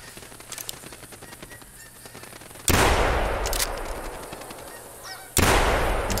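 Loud shotgun blasts while hunting geese in theHunter Classic video game, two heavy booming reports a few seconds apart, followed by flapping and honking from a flock.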